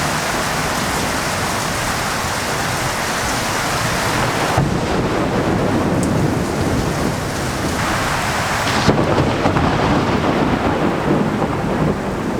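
A thunderstorm with rain pouring steadily, and loud, rolling thunder from lightning about half a mile away rumbling under the downpour, with no one talking.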